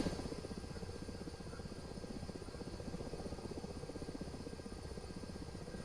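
Simulated military helicopter in a flight-sim campaign mission, its rotor chopping in a fast steady pulse under a continuous engine whine and hum, constant and close with no voices.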